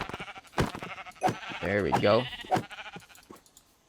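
Several sheep bleat in a Minecraft Fabric modpack, wavering cries clustered mid-clip, loud and close, with someone talking briefly before and around them.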